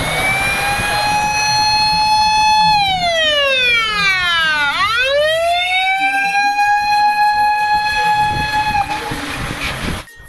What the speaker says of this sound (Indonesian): wow, lihat teman-teman, yang terakhir ada mobil damkar.